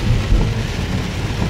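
Heavy rain pours down on a car during a drive, a dense, loud, continuous hiss and drumming on the roof and glass with a low rumble underneath and no talking.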